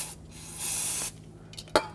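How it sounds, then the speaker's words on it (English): Aerosol can of brake parts cleaner spraying onto a rear brake caliper of a 2000-2005 Ford Excursion, one short hissing burst of about half a second, followed by a faint hiss and a small clack. "If there is any, you can use some brake parts cleaner and rinse it off."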